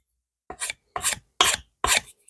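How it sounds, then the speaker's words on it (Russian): A Yakut knife blade is sharpened on sandpaper starting at 400 grit. Four even, close rasping strokes sound with short silent gaps between them. "И тут наждачкой, ну, начиная от 400"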